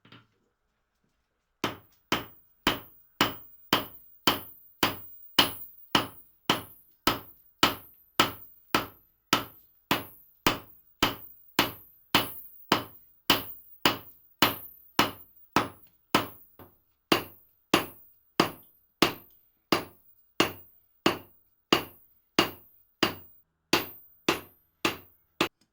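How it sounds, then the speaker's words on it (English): A blacksmith strikes hot metal on an anvil with a hammer, about forty sharp ringing blows at a steady rhythm, loud and close with nothing else heard. "remove from the fire, place onto a hard surface, such as an anvil, and then strike with a hammer until you achieve the desired shape"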